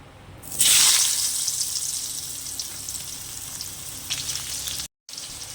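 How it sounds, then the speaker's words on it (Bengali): Potatoes dropped into hot oil in a pan, a loud sudden sizzle that settles into a steady frying hiss, with a brief cut to silence near the end. "এই তেলের মধ্যে আমি আলুগুলো কষিয়ে নেব"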